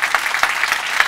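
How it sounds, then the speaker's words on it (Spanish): A church congregation claps together at a sermon, loud and dense applause filling the whole moment with no speech over it. "Si va a aplaudir, aplauda completo."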